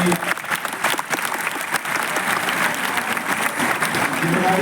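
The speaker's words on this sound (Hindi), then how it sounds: "आप अपने लिए तालियां बजाइए" A seminar crowd at BHU claps for themselves, a thick, even wash of applause that stays loud and continuous throughout.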